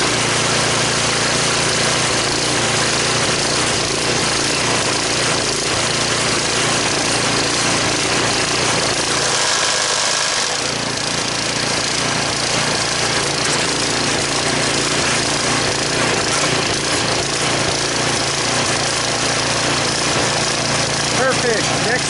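Cub Cadet or DR mower or snow blower engine running steadily after a seasonal first start, a loud continuous mechanical drone with no break across the whole stretch.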